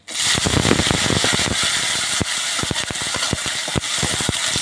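Green and dried chilies, onion and whole garlic cloves hit hot oil with a loud burst of sizzling, followed by sharp pops and crackles spattering at irregular intervals over a continuous hiss.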